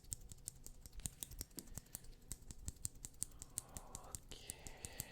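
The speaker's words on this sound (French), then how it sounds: "avec cette petite paire de ciseaux, je vais enlever tous les cheveux superflus" Small scissors snipping hair at close range, quick crisp snips in an uneven rhythm, soft and close, with a faint rustle near the end.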